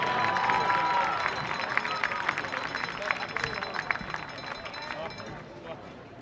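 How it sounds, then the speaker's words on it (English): Crowd at a college football homecoming game, North Greenville University, applauding and cheering in a loud, dense wash of claps and voices that holds steady then slowly eases, with an announcer's voice over it. "Let's have a big round of applause for all of our representatives today"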